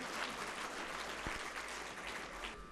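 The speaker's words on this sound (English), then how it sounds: "Can we have a huge round of applause for them?" Audience at an Interact Club event of Apeejay School, Sheikh Sarai, New Delhi, gives a round of applause, a steady dense patter of clapping held at an even level throughout, fairly distant.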